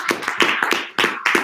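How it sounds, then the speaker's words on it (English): An audience claps together at a seminar, a short, steady burst of applause with sharp, evenly repeated hand claps, close and moderately loud, with no voices over it. "can we give Mike a round of applause first?"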